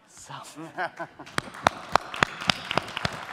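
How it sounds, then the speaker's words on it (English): After a brief spoken word, a conference audience at a startup pitch round claps in sharp, evenly spaced bursts that stay fairly sparse and close. "Here's some applause for the first person who finished with an hour left to spare"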